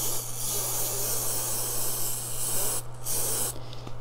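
Clear acrylic sealer sprayed from an aerosol can onto paper: a loud, steady close-up hiss that cuts out briefly twice near the end before resuming.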